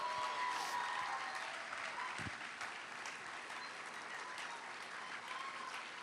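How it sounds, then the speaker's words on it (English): A crowd at the outdoor unveiling of The Embrace monument in Boston claps steadily, a broad sustained applause at a moderate distance with a few faint cheers in it. "please give yourselves a round of applause right now"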